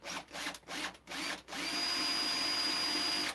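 A power drill with a metal bit boring into a hole for hardware on a lamp, first a few short bursts on and off, then one steady whine held to the end, fairly faint.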